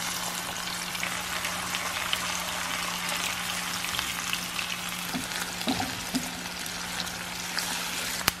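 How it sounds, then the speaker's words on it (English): White onions fry in a pan with a steady, even sizzle, close and moderately quiet, plus a few faint stirring clicks near the end. "Next, I will add our white onions."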